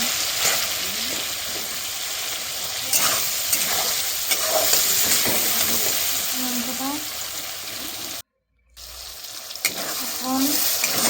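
Rohu fish paturi masala is stirred with turmeric in a pan, giving a steady sizzle and frying hiss with intermittent scraping strokes, close and fairly loud, broken by a short cut of silence.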